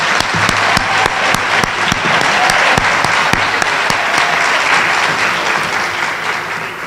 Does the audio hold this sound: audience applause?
yes